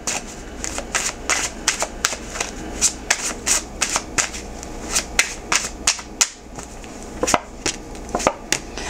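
A deck of tarot cards is shuffled and drawn, producing rapid, crisp snapping and flicking bursts in an uneven rhythm, close and fairly loud, with no speech.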